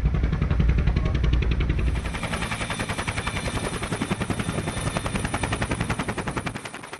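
Military helicopter flying during a chase after Somali pirates, a loud, rapid rhythmic rotor thumping that starts as a deep rumble and then settles into steady fast chopping, close and continuous.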